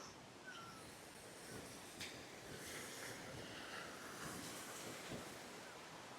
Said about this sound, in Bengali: জলের স্রোতটা শুধু দেখো এত আওয়াজ জলের স্রোতে